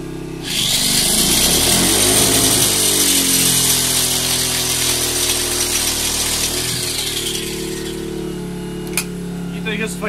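An angle grinder powered by an Einhell BT-PG900 generator spins up to a loud, steady high whine and then slowly winds down. A lower engine drone runs underneath throughout.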